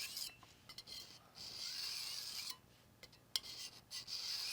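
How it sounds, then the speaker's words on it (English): A knife blade scrapes in short, faint rasping strokes along the ceramic rod of a Work Sharp Micro sharpener, with brief pauses and small clinks between passes in a quiet room. "This length of blade is not real comfortable to be using on this sharpener."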